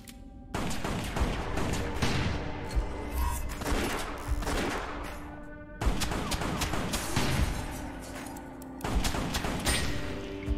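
Shotgun blasts from the video game West of Dead boom repeatedly in heavy, dense clusters, loud and close, with dull crashing impacts and a droning musical backdrop underneath.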